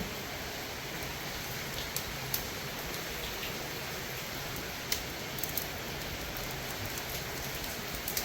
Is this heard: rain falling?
yes